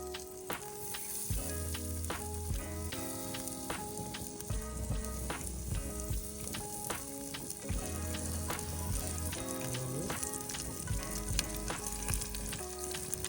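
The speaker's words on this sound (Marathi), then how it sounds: "दगडावर घासून मासे फ्राय करायला चालू केले आम्ही." Fish coated with chutney, salt and lemon fry on a stone outdoors in a forest camp, a steady close sizzle with crackling and occasional clinks running throughout, no talking.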